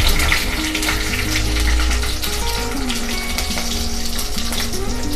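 Dried chillies, bay leaf and whole cumin sizzling in hot oil in a home kitchen, a loud, steady, close crackling fry with a dense hiss throughout and no voices.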